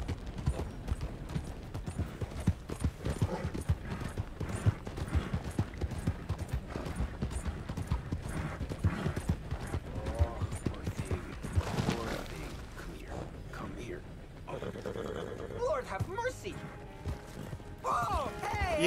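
A draft horse in Red Dead Redemption 2 clops along in a quick, steady hoofbeat rhythm for most of the stretch, then slows near the end, with someone talking over it.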